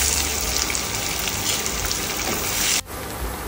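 Chopped onion, garlic and ginger frying on low flame in a pan for Mumbai-style pav bhaji, a steady broadband hiss and sizzle that runs loud and continuous before cutting down abruptly near the end.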